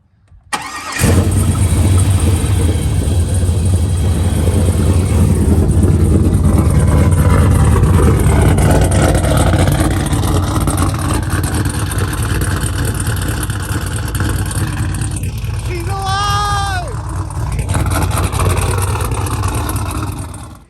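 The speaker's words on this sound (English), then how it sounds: "So little push button start." A Pontiac Firebird engine starts by push button and settles into a loud, steady, rumbling run close by, with a brief whistling whine near the end and no talking.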